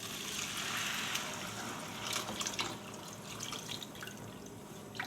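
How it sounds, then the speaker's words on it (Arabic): Water is poured into a pot while mandi rice is cooking, giving a continuous splashing, trickling stream at moderate level with a few louder gurgles, heard alone without talk. "نحط بقى الميه"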